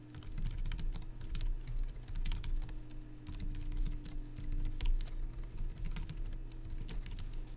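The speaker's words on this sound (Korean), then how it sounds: "그 다음에 엔터를 쳐서 그 다음엔 아래 방향으로 그리고 엔터." A computer keyboard is typed on steadily, with dense close clicks and occasional harder key strikes like Enter presses, over a low constant hum and with no speech.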